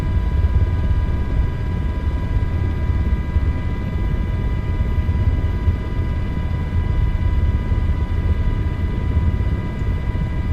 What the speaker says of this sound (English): This is a very, very loud helicopter.